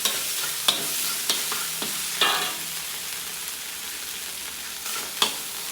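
Garlic sizzles and fries steadily in a hot pan for fried rice, with a few sharp spatula scrapes and stirring clinks over the continuous crackle; no one speaks.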